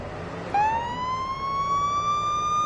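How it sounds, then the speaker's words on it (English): A synthetic video game police car siren starts abruptly and holds a rising, steady wail, loud and close, over a low background rumble. "The sirens sound pretty good."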